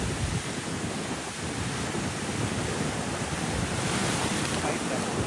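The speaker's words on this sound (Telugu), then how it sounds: "అలలు చూస్తేనే భయం వేస్తుంది, అంత పెద్దగా వస్తున్నాయి ఇక్కడ." Big monsoon waves on Anjuna beach in Goa crash and roar in a dense, continuous wash of surf, heard close and loud with gusting wind buffeting the microphone throughout.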